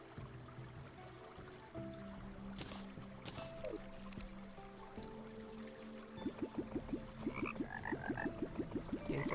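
Frog croaks from the video game Terraria start sparse and quicken into a steady rapid rhythmic croaking chorus over the last few seconds, set against a bed of game music and watery ambience.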